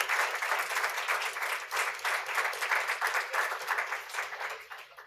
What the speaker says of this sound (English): Would you please give the candidates a round of applause?